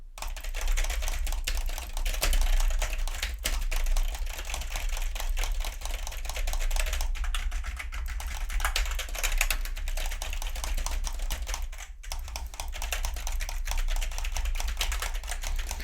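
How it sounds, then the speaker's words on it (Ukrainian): A loud Real-El membrane keyboard and a noisy mouse are used behind a budget Real-El MC-700 microphone: continuous rapid key clatter with occasional sharper clicks, steady and close over a low hum, with no voices. "наскільки сильно мікрофон буде вловлювати клацання клавіатури та миші"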